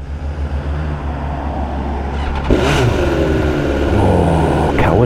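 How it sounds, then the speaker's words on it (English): A BMW engine cranks and fires up running off a Kawasaki motorcycle battery, a steady loud rumbling idle that rises slightly midway, heard close over a continuous mechanical hum. "See if Kawasaki's got the power to start off a BMW."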